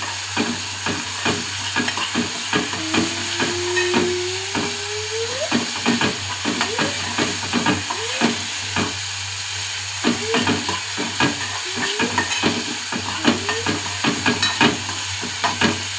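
Cowpeas being stirred as they fry in a pan, steady sizzling under regular scraping and clacking spatula strokes, along with a faint tonal whine in the background.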